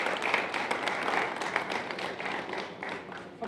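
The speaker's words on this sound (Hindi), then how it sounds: "जोरदार तालियां" Audience applause at a Hindi-language gathering celebrating Babasaheb Ambedkar's birthday, a steady, dense wash of many hands clapping at moderate distance, continuing without break for the whole stretch.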